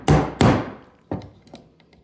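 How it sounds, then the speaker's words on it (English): A hammer strikes a Ruger RXM trigger kit part resting on a bench block, two sharp loud blows close together followed by a couple of lighter taps and small metallic ticks. "and then I'll hit it with the hammer"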